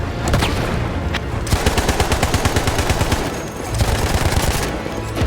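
Rapid gunfire from a weapon in the video game Battlefield 1, loud and dense, with fast repeated shots in sustained bursts broken by brief pauses.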